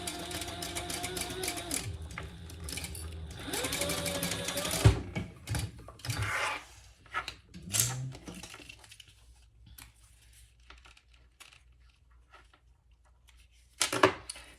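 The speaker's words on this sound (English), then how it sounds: "I'm just going to sew a small seam allowance" A sewing machine stitches a small seam allowance on a fabric pouch in two short bursts of rapid whirring, followed by quieter handling clicks, pauses and a final brief mechanical clatter.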